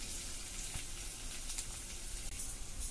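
Onion sizzles in hot oil with green chili and ginger, a quiet steady frying hiss with faint scattered crackles and no voices.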